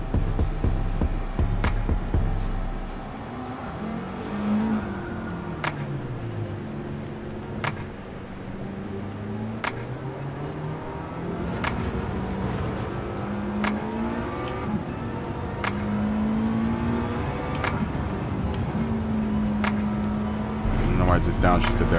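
A car engine in Gran Turismo 7 drones and revs steadily with rising and falling pitch sweeps through gear changes, loud and continuous, with sharp clicks scattered throughout and a voice talking over it.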